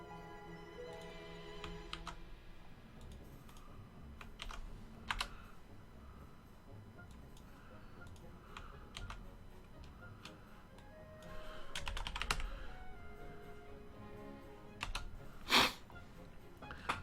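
A computer keyboard is typed on up close in a quiet room, giving a steady run of loud clicking keystrokes with a few sharper, heavier clacks along the way and no talking.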